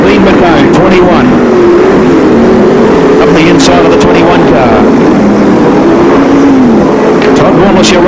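Sprint cars race at Archerfield Speedway, engines roaring loud and continuous as the pack circles the track, their pitch rising and falling, with a commentator talking over the noise throughout.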